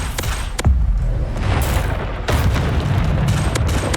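Bombarda spells blast repeatedly in the video game Hogwarts Legacy, a series of booming explosive bursts mixed with game effects, fairly loud and close.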